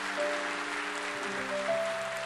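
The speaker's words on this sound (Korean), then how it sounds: "우리 축복하며 박수하겠습니다" A church congregation claps together during a Sunday service, a steady even wash of applause throughout with faint sustained tones behind it.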